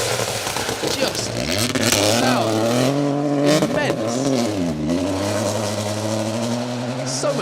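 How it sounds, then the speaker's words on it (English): Peugeot 208 rally cars race on a BTRDA rally stage, engines loud and close with rising and falling revs and gear changes. The sound is sustained, and a commentator's voice may run underneath. "So much noise and theatre from those Peugeot 208s."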